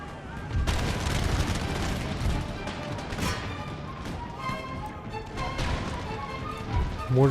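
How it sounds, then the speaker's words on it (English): Mortars and howitzers fire in an Empire: Total War battle on the far left flank, a dense run of overlapping booms and crackling gunfire over a steady battlefield roar, with a louder blast near the end. "Mortars and howitzers fire on the far left flank."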